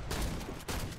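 The RST-14 in the shooter Warface fires in a fast, loud burst of overlapping shots, sustained and close with a brief dip partway through.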